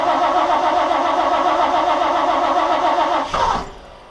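A car engine cranks in a loud, steady, rhythmic churn after its fuel has drained back, then catches and fires near the end as the cranking cuts off.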